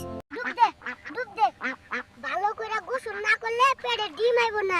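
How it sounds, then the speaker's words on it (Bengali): Ducks quack over and over in a dense, nasal chorus close by, the calls tumbling rapidly one after another. "খালি প্যাক প্যাক করো ডিম পারছো না"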